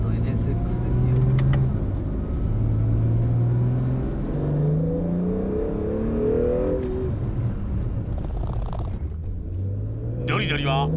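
A 2019 Honda NSX drives with its engine revving and rising and falling in pitch, the steady rumble continuing throughout while people talk over it.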